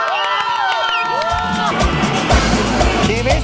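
A crowd bursts into cheering and clapping after a final sung note, loud and lively with shouts mixed in.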